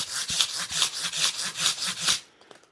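A rough 120-grit abrasive is worked up and down the edge of a guitar fretboard, giving about a dozen rhythmic, raspy scrubbing strokes close by, each a bright gritty swipe, before stopping abruptly.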